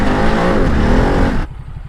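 A Ducati DesertX motorcycle is ridden through Sardinia, its engine droning loud and close with rising revs before it cuts off abruptly to a low idle.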